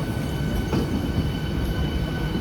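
A Sealdah–Barasat AC local electric train rolls into a platform at Sealdah station, a loud, continuous low rumble of wheels and carriages close by with no voices.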